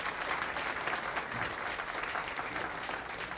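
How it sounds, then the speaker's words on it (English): Steady, sustained applause from a large crowd at a luncheon, dense clapping filling the whole stretch at an even level. "let's have a big round of applause for all these fine Waco ISD youngsters"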